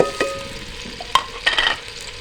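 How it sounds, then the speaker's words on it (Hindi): Onions fry softly in sizzling oil in a pan with a few stirring scrapes and clinks of a utensil, close by and brief. "प्याज को अच्छा से हम फ्राई कर लेंगे, ब्राउन होने देंगे।"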